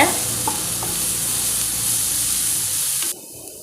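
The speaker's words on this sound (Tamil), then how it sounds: "கூடவே நாம் கருவேப்பிலை சேர்த்தலாம் பச்சை மிளகாவும் சேர்த்தலாங்க எல்லாத்தையும் நல்லா வதக்கிக்கோங்க" Onions, curry leaves and green chilies sauté in hot oil for a Tamil vada curry, a loud continuous sizzle with stirring scrapes that cuts off abruptly near the end.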